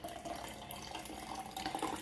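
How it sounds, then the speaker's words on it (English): Pineapple agua fresca water being strained off the fruit, a steady trickling, splashing pour running continuously at close range without talk. "So I'm actually going to strain the water. I'm straining the water off of these"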